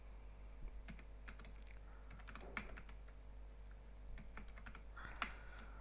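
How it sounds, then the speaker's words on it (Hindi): Quiet clicking of a computer keyboard as values are typed into spreadsheet cells, with irregular key taps and small clusters against a low steady hum. "यहाँ मैं कुछ अलग अलग वैल्यू टाइप कर रहा हूँ सेल के अंदर"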